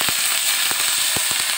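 Onion and garlic frying in hot oil in a pan give a steady, loud sizzle with a few sharp pops and crackles scattered through it, and no talk.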